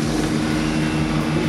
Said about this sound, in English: And turn on the engine.